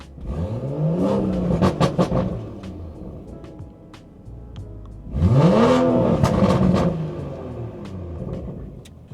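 A BMW 340i with the B58 turbocharged engine makes two hard pulls, each rising rev sweep with turbo whoosh and spool, followed by a dip between bursts, close and loud with no one talking.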